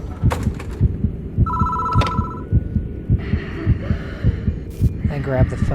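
A telephone rings in the horror video game Death Mark, a short buzzing ring sounding over a heavy, throbbing heartbeat-like pulse and an eerie hum.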